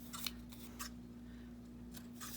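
Scissors trim the edge of a paper journal page in a few short, close snips over a quiet background with a steady low electrical hum.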